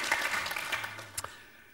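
Studio audience applauding on a French television game show, a short burst of clapping that quickly fades, with a brief low tone underneath.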